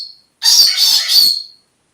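A pet parrot lets out a loud, harsh squawk lasting about a second, close by and with no talk over it.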